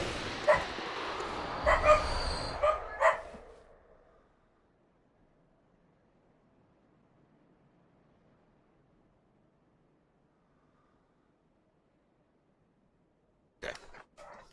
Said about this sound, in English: I keep muting the mic because the dogs are barking